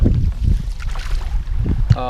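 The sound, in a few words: wind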